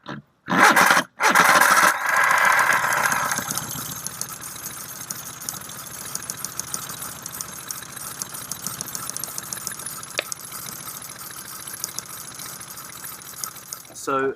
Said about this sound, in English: we'll hit that starter button and we'll see if we can see a spark